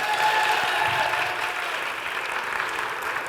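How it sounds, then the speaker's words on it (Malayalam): A studio audience at a comedy game show breaks into brief, steady applause, dense clapping that fades slightly over a few seconds with no talk. "അപ്പോൾ ഒന്ന് കൈയടിച്ചു കൊടുത്താൽ നമുക്ക് ഗെയിമിലേക്ക് കടക്കാം"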